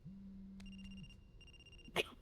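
A phone rings inside a video game, a single sustained electronic ring tone with a brief trill, moderately loud and alone, followed by a short burst of noise.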